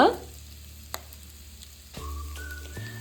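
Chopped ginger, garlic and curry leaves fry in hot oil for a garlic chicken roast, a soft hiss with a sharp tap near the start and a fresh burst of sizzling partway through, close and without speech.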